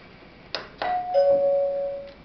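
Table service call button sounding a ding-dong chime after a couple of clicks, two clear bell tones with the second ringing out and fading, close and alone.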